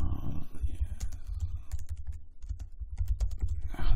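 Rapid keystrokes on a computer keyboard while entering a Ctrl-X Ctrl-E key combination in the Emacs editor, a close, steady run of sharp clicks with no speech.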